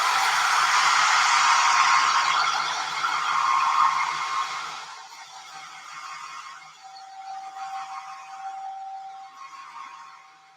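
A hair dryer blows steadily on a 100% unbleached birdseye cotton diaper clipped to an apron, making a loud, continuous airy whir. The tone and pitch shift partway through as the airflow moves or the setting changes.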